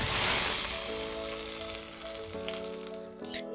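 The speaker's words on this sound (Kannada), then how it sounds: "ಒಂದು ಬಟ್ಲೊಳಗೆ ಎಣ್ಣೆ ತೊಗೊಂಡು ಅದಕ್ಕೆ ಸ್ವಲ್ಪ ಜಾರಿ ಸಾಸಿವೆ ಜೀರಿಗೆ ಕರಿಬೇವು ಹಾಕಿ" Mustard seeds, cumin and curry leaves hit hot oil for a tempering, giving a steady close sizzle that fades slightly over a few seconds, with faint tonal sound underneath.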